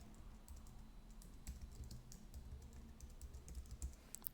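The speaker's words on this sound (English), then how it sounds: "Let's create a new group by typing in sudo group add accounting" Fingers typing a Linux command on a computer keyboard, quiet irregular key clicks in quick bursts, close up with no voices.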